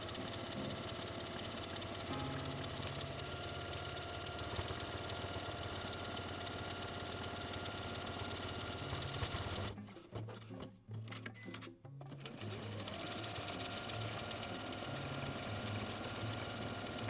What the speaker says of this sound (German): Das Knopfloch sticke ich mit dem entsprechenden Nähfuß und Programm meiner Nähmaschine.